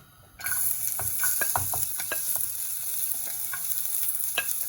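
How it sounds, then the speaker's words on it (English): Garlic dropped into hot Napolina olive oil bursts into a loud, close sizzle after a brief quiet start, with crackling pops and stirring scrapes continuing steadily, no voices. "I'm just going to start to cook this now, right? So you're going to need the garlic's going in first"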